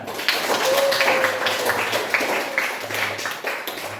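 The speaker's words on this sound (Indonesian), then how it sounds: "Tepuk tangan." Students in a high school classroom applaud in a brief, moderately loud round of clapping of uneven density that tapers off over a few seconds.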